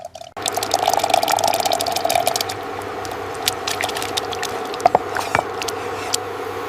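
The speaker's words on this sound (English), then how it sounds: "She is heating the pan, pouring in water, and adding onion and garlic to start the tteokbokki base." Water poured into a heated pan as a tteokbokki broth begins, a steady splashing pour at first that settles into a quieter simmering hiss with a few clinks, no voices.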